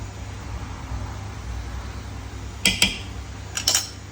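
Two short pairs of scraping clinks from a utensil poking holes into parboiled rice in a pot for kacchi biriyani, coming late over a steady low hum of a stove.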